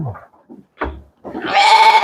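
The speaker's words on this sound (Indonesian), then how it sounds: "Nah, ini domba yang baru kemarin dicukur ya." Recently shorn sheep in a pen at an Indonesian sheep farm, a few short close sounds and then one loud, strained bleat rising clearly at the end.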